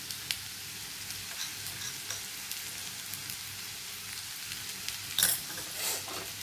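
Chicken keema and peas being stirred in a hot pan over a soft steady sizzle, with scattered spatula taps and a louder scraping clatter near the end.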